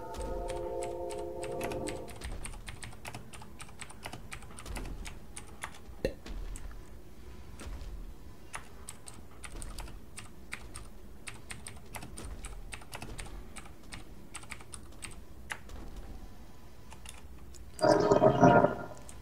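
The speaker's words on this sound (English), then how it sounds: "Sorry, I was busy typing." Rapid keyboard typing clicks along steadily and close for most of the stretch during a session of the online game EverQuest II, with a short louder burst of other sound near the end.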